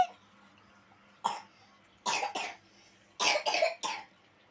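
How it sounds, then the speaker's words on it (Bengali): Six short, dry coughs from a child with a cold come in small clusters, a single one followed by a pair and then three in quick succession, in a quiet room. "কাশি হয়েছে কাশি হয়েছে ঠান্ডা লেগেছে"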